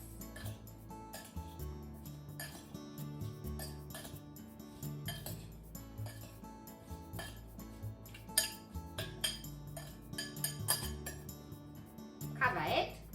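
Sweet potato and sugar are stirred in a bowl, giving repeated clinks and scrapes of a utensil against the dish in an uneven rhythm, close and fairly quiet, with a few louder knocks near the end.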